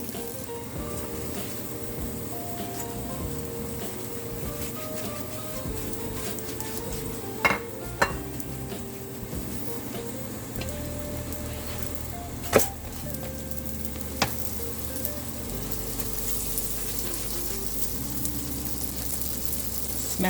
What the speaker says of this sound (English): So roti is cooking here.